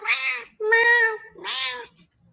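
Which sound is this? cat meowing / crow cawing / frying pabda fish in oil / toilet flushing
cat meowing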